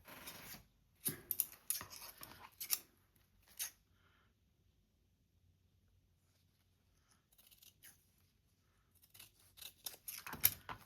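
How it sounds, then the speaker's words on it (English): Scissors cut through a piece of scrap fabric in a quick cluster of crisp snips, then silence, then another burst of snipping near the end, heard close and quiet. "So yeah, so we're going to cut this in half."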